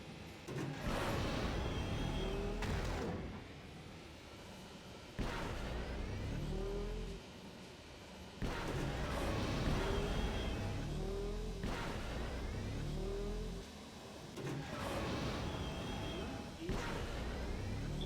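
A swoop bike engine in the game Knights of the Old Republic, revving and accelerating in repeated surges that rise in pitch, drop off and build again, loud and close, with background game sound.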